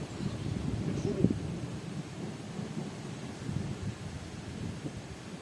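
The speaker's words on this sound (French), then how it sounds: "la vitesse que le vent s'est levé" Strong wind rising ahead of a storm at a campsite beside a camper van, a steady low roaring rush with gusty swells throughout and no voices.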